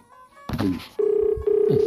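A telephone rings in bursts, a sharp electronic trill repeating twice with brief gaps, preceded by a short voice, heard indoors in a small shop.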